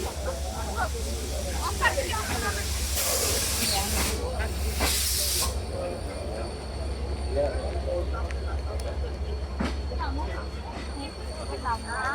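The Rupashi Bangla Express rolls into Jessore Junction station with a steady low rumble beneath, loud hissing bursts of brake air in the middle, and a few faint knocks and clanks later on.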